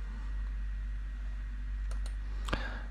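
A couple of soft, close computer mouse clicks on a Done button, with a slightly sharper click near the end over a steady fan-like hiss.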